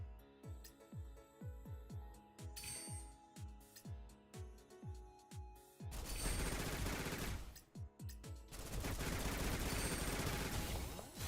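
Turret gunfire in a video game: a steady run of evenly spaced, thumping shots, then a loud, continuous roar of rapid fire that briefly breaks off and resumes.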